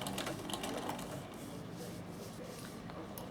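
A Bernina sewing machine running a straight stitch, a faint quick mechanical whirring and ticking that is a little busier at the start, then steady.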